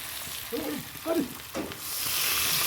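Prawn, taro and potato curry frying in a pan after water is poured in, a steady hiss with a few stirring scrapes and a rising sizzle near the end, close by.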